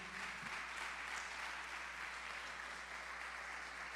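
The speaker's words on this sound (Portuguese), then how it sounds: "Aplauda ao Senhor Jesus." Steady applause from a church congregation fills the room, a dense continuous patter of clapping at moderate volume.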